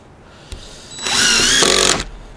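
A power drill drives exterior-grade construction screws into wood on a barn door: a short whir, then a loud sustained whine of about a second whose pitch shifts as the screw seats, then it stops abruptly.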